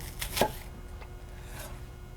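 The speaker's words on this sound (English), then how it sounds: "slice down through my onions, all the layers, and there's my chopped onion" A few faint knife chops through an onion on a cutting board, soft crunchy strikes against a noisy background hum.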